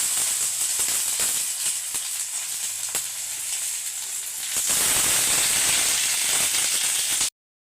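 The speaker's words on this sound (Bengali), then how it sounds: "এবারে মাছগুলো দিয়ে দিচ্ছি।" Rui fish pieces laid into hot oil on a tawa hiss and sizzle loudly and steadily, with scattered pops and crackles, the frying swelling louder partway through before a sudden cut to silence.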